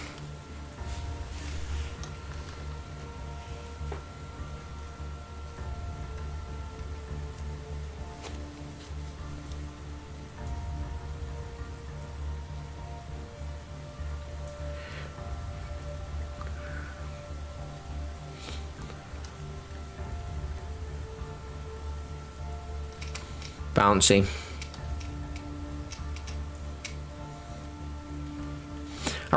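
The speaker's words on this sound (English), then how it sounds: "I really like that rain sound." Steady rain in the video game Space Engineers hisses throughout at a constant level, with a brief louder knock partway through and a short spoken word.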